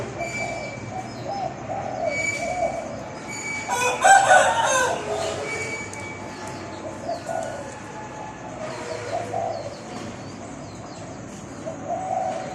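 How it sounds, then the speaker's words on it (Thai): A trained rooster gives a long rolling crow, loud and close, with other birds calling and cooing faintly in the background of an outdoor setting. "ขันม้วนครับตัวนี้มี"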